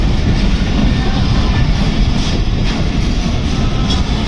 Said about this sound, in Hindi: अल्लामा इकबाल एक्सप्रेस अपने मुकर्ररा वक्त से 4 मिनट ताख़ीर से 2:19 पर ड्रिग रोड स्टेशन पर पहुंची।